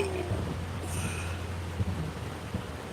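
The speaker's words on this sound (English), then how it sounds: "this rain is no joke today." Heavy rain hisses steadily, with a low rumble of thunder and a few soft knocks, heard from inside a vehicle during a drive, with no one talking.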